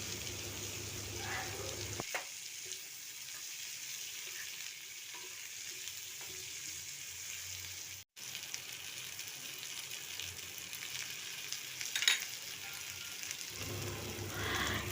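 Chicken masala ingredients and tomato sauté in a pan with a soft, continuous sizzle and occasional stirring scrapes, faint and close throughout, with a brief dropout midway.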